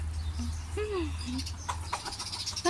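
Soft clucks and chirpy bird calls from chickens in a coop, scattered over a steady low hum, with a louder squawk at the end.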